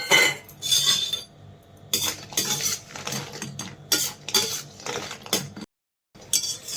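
Lentil dumplings (bori) going into hot oil in a home kitchen, with scraping and clinking of a metal spatula against the pan, stirring strokes in bursts over a faint sizzle, close up, no talking.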